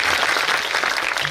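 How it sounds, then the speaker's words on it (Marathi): Devotees at a village kirtan gathering clap steadily to welcome the young men of the village, a dense, even wash of applause from a crowd. "तुम्ही आलेले भाविक टाळ्या वाजून त्यांचं स्वागत करा"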